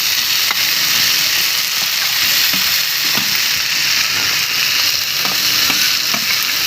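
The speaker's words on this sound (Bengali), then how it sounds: "মশলা দিয়ে পুরো কচুরলতি কষানো হচ্ছে" Taro stolons sautéing with spices and fried potatoes give a steady, loud sizzle and crackle, with occasional scraping stirs of a spoon against the pan.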